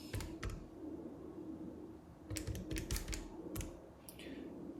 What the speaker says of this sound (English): Typing in all these numbers and just double checking that you haven't made a tiny mistake